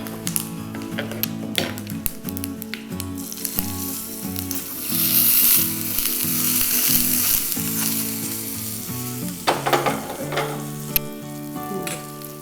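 Loud, steady sizzling of a spice tempering frying in hot oil, with occasional stirring clinks and crackles throughout, no voices.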